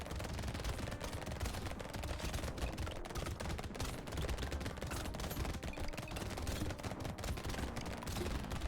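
Rapid SMG fire in a video game fight against an elite enemy, a dense, continuous stream of automatic shots lasting several seconds, loud and close with no pauses.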